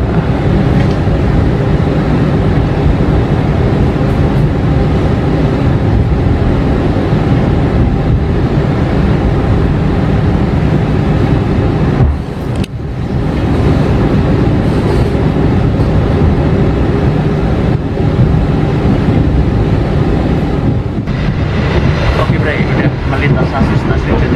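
Onboard the KA Purwojaya train running on track 3 through Jatinegara station past a commuter KRL, a continuous heavy rumble and rattle of wheels on rail fills the cabin, with a brief dip partway through.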